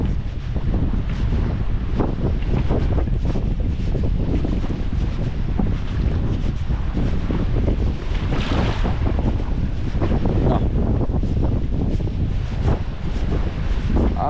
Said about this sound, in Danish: Hold kæft, det blæser.